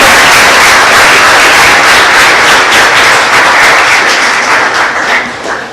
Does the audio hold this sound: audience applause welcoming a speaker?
yes